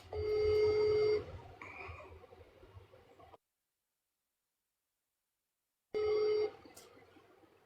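A telephone call rings out while waiting for an answer: a steady ringback tone sounds for about a second, then there is a long stretch of quiet room noise and silence before a shorter burst of the same tone returns.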